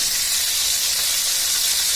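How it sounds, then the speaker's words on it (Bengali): Chicken pieces fry in hot oil in a wok, giving a loud, continuous, close hiss and sizzle with no voices. "মুরগি মাংসগুলো ভাজার জন্য আমি কড়াইতে তেল দিয়ে দিছি।"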